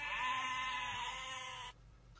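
A sheep bleats once in a sound effect: a single sustained, wavering bleat, close and clear, lasting under two seconds and then stopping abruptly, with no voices.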